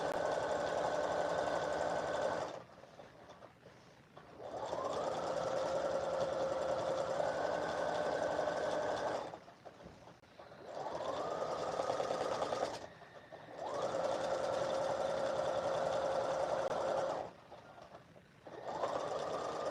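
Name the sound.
sewing machine hemming a blouse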